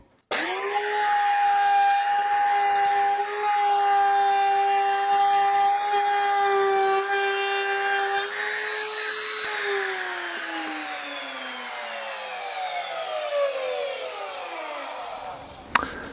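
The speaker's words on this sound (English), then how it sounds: "router is now raised for the full depth cut. Let's go." A wood router whines loudly and steadily while making a full-depth cut in wood for a steering wheel for a 1939 Hudson, then spins down with a falling pitch until it stops.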